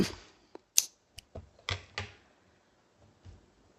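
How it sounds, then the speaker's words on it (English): Scissors snipping yarn while finishing a sunflower granny square, a string of small sharp clicks and snips spaced irregularly, close and quiet with no talk. "Let's give it a little snip snip."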